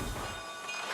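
A Durango and Silverton narrow gauge train rolls along its tracks in Durango, Colorado, giving a close, steady rumble and wheel clatter with no one speaking.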